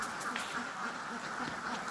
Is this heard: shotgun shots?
no